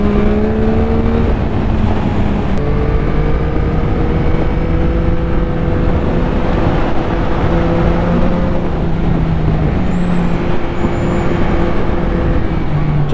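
Yamaha MT-09 SP naked motorcycle ridden on the road with a quick shifter, its engine note holding a steady loud drone with pitch lines rising and dropping through gear changes, wind rushing throughout and no talk.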